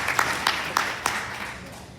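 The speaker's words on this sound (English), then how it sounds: "Can we just give them all a round of applause for being here with us tonight?" Audience at a mayoral candidate debate event in Ajax clapping for the candidates, a brief wash of applause with a few sharper individual claps standing out before it fades slightly.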